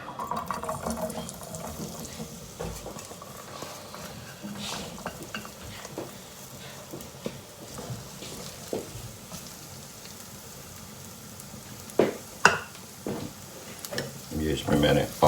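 Onion sizzles in a pan for an Afghani breakfast, a steady frying crackle broken by stirring scrapes and clanks of a utensil against the pan, with louder knocks toward the end.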